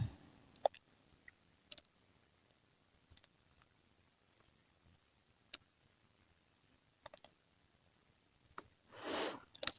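A computer mouse clicks sporadically, with single and double clicks spaced a few seconds apart in a quiet room, crisp and close; a short soft rustle comes near the end.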